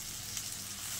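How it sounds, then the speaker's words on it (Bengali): Sliced onions fry in hot oil for prawn-and-vegetable cooking, giving a steady, close hiss and crackle throughout with no talk. "আমি এবার পেঁয়াজটাকে ভেজে নিচ্ছি।"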